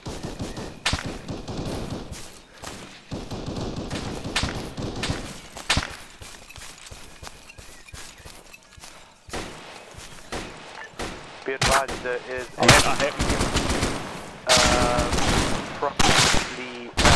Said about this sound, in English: we are getting heavy fire from that guard, those guards on the road